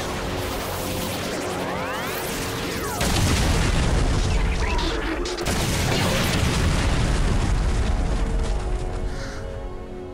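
Power Rangers Super Samurai Shogun cannonball attack: a loud booming explosion with crashing bursts, sustained roaring blasts and rushing effects filling the scene, heavy and up close.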